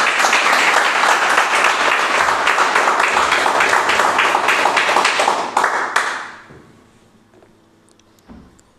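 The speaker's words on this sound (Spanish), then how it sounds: "Vamos a darle un fuerte aplauso al Señor." A church congregation gives loud, sustained applause with dense overlapping clapping for about six seconds, then the clapping fades quickly into near silence.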